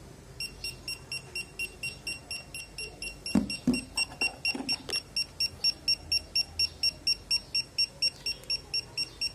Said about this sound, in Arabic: اقدر ان انا اضغط على كلمة انذار